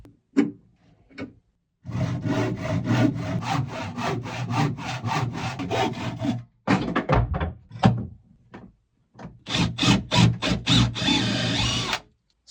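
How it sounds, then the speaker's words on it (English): A hand saw cuts the end off a piece of wood, giving quick rhythmic back-and-forth rasping strokes up close, broken by a short pause and then a final burst of sawing. "Now I've got to cut the end off this piece of wood"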